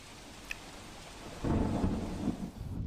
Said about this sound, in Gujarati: સુઈગામની અંદર જે ધોધમાર વરસાદ વરસી રહ્યો છે